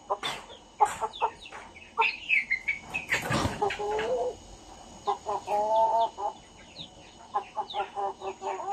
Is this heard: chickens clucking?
yes